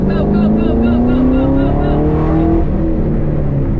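A built Camaro SS on a race track, its engine roaring loud and close as it accelerates hard with rising pitch, under an instructor's voice giving directions.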